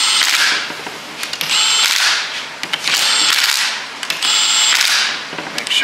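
A power tool on a very low setting threads in ring gear bolts on a Jeep JK Dana 30 axle: three bursts of whirring and ratcheting, each a second or so long, separated by short pauses with small clicks.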